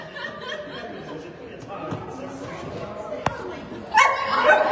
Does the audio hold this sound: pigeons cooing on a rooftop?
no